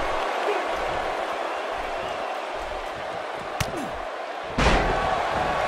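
A dense, steady roar of an arena crowd at a WWE 2K18 wrestling match in Pontiac, Michigan, with a sharp slam or impact near the end and a brief swell after it.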